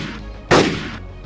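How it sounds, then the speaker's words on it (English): A single sharp, loud gunshot bursts out of a low background rumble in the game DayZ, and its echo trails off over the next half second. "As we heard those gunshots"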